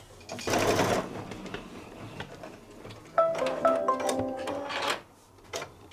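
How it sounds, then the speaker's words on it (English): Home embroidery machine stitching a tack-down pass over layered fabric scraps for an in-the-hoop bunting, giving a loud steady whirring burst early on, then rhythmic mechanical stitching with tonal motor hum for a couple of seconds. "the next stitch is going to tack down the fabric."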